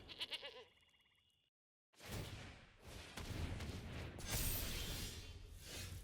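In the MTG Arena card game, a goat sound effect plays a short, wavering bleat at the start, then a chime and a break before swooshing game effects and rumbling sounds take over.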